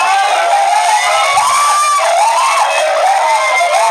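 Wedding guests around a couple shouting and cheering: a bright, continuous mass of excited voices and high-pitched shrieks, loud and steady throughout, with no single speaker standing out.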